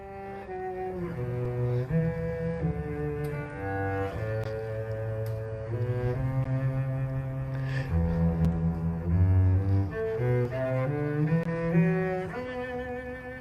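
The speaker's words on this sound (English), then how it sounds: "So that's something like the sound of a cello." A cello plays alone up close: deep, sustained bowed notes move through a slow, continuous melodic phrase.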